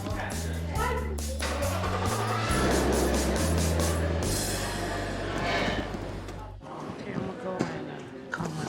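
A car engine idles steadily at a sale, a low rumbling drone with a slight rise in pitch midway, then dropping off near the end, heard alongside other background noise.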